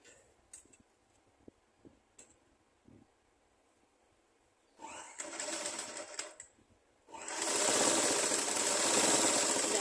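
A sewing machine stitches fabric in two bursts: a short whirring run, a brief pause, then a longer, louder continuous run, after scattered quiet handling taps.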